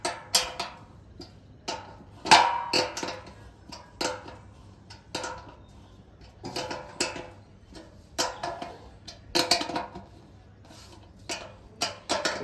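A wrench ratchets and clinks in short, irregular bursts of metallic ticks and taps, close by, as it tightens a TV antenna wall mount.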